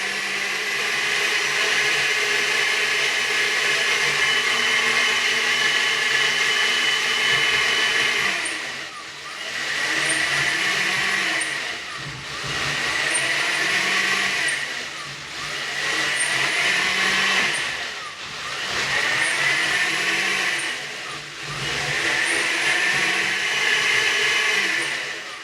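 A millo cordless blender runs its smoothie program, whirring loudly in repeated pulses that swell and dip every few seconds, with a steady motor hum between them.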